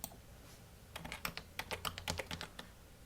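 A trading passcode tapped out on a computer keyboard, a quick run of light, close keystrokes in irregular clusters, quiet with no voice.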